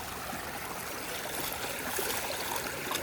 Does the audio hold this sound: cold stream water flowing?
yes